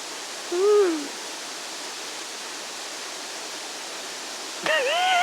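A waterfall beside a rocky wall on a tour in Taiwan makes a steady, even rush of falling water, with two brief whistling calls cutting in near the start and end.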